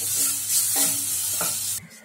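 Three large pieces of coconut fry in a kadai for an egg kurma, giving off a steady close sizzle with faint stirring scrapes before it cuts off near the end.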